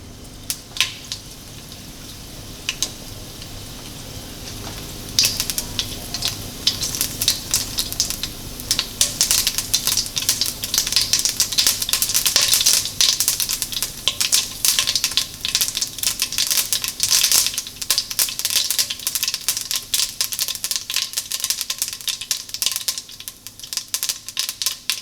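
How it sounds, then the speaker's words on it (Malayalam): Mustard seeds spluttering and popping in hot ghee or oil while broken wheat upma is being cooked: dense, rapid crackling that builds up and stays busy for most of the stretch, then thins slightly toward the end. "കടുകൊന്ന് പൊട്ടിക്കിട്ടട്ടെ"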